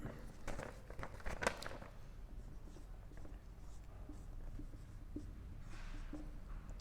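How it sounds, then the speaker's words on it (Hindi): Pen or marker scratching out answer options by hand in a quiet room, several short strokes early on and then lighter scattered taps and scrapes, close and fairly faint. "यहां मैं ऑप्शन लिख दे रहा हूं"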